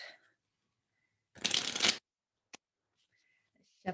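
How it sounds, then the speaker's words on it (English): A would-you-rather card deck is riffled once in a quick burst, with a few faint taps and brief voice sounds around it in an otherwise quiet room. "So this is my would you rather deck. I'm gonna shuffle them."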